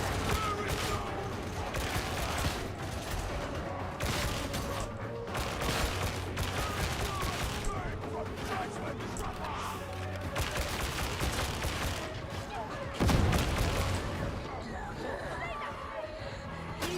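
Grenade explosions and gunfire in the video game Darktide form a dense, continuous stream of shots and impacts. One heavier, booming blast stands out near the end, and a voice talks over the action.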